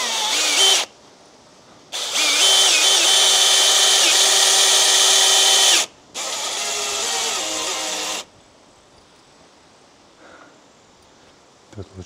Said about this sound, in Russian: Тут лучше несколько шурупов прикрутить